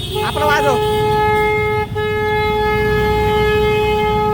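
A loud vehicle horn blares in one long, steady tone, with a few quick honks at the start and Mumbai road traffic rumbling beneath.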